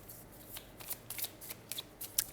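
Tarot cards being shuffled by hand: a string of quick, crisp riffling bursts in an uneven rhythm, close and moderately loud against a quiet room, with no talking.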